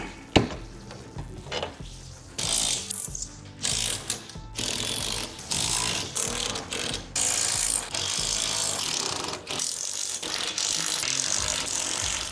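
A ratchet wrench tightens the mounting hardware of a Holman Pro Rack on a Ford F-150 truck, giving repeated bursts of rapid close clicking with brief pauses between strokes.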